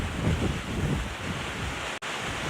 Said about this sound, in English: So the wind does seem to be picking up. I'm sure you can hear the gusts as they're coming through.